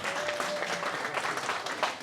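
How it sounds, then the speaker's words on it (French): Warm applause from guests at a 65th birthday celebration indoors, dense continuous clapping that stays steady and fairly close for the whole stretch. "Applaudissez encore pour vous-même,"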